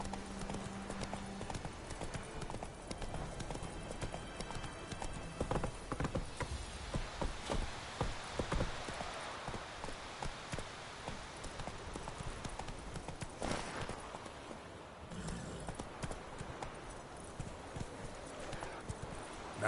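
Galloping hooves of Roach, Geralt's horse in The Witcher 3, beat out a fast, steady clip-clop that runs the whole stretch, with a brief whinny and scattered game sounds over it.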